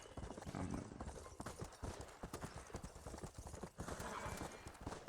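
Horseback riding in Red Dead Redemption brings a sustained run of rhythmic hoofbeats, dense and continuous over several seconds, with occasional snorting or faint whinny-like sounds and some background game noise.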